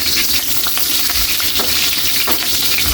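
Onions sautéing in a pan with garlic for lomi, a loud, dense, close sizzle that runs steadily throughout with light stirring scrapes.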